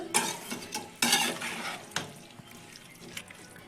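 Carrot, radish and green chili pickle in vinegar stirred with a spoon in a metal pan, giving close scraping and clinking strokes in a few distinct bursts with no talk.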